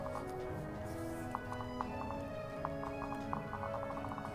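Horses in the video game Fire Emblem Conquest, with faint, sparse hoof clops repeating at irregular intervals under a dense, steady game soundtrack.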